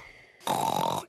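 A cartoon pig voice imitates snoring: one loud, rasping snore lasting about half a second, up close and alone.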